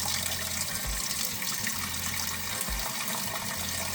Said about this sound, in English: So I'm going to turn on some cold water.